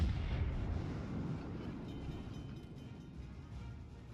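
Heavy battleship guns boom in a naval battle in the game World of Warships, a deep rumbling blast that rolls on and fades under a low, steady background wash, without any speech.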